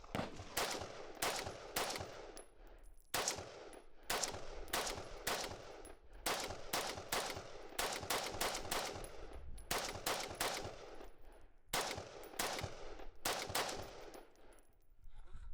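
An Armalite AR-180 rifle fires through a full magazine at a fairly quick, uneven pace, each sharp report distinct and loud outdoors.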